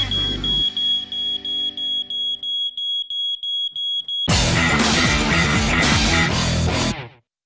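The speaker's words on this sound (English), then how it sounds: "your alarm will pick up the tiniest of particles and beep like a good 'un." A smoke alarm beeps repeatedly in a steady rhythm, about a dozen sharp piercing chirps, then loud music abruptly takes over.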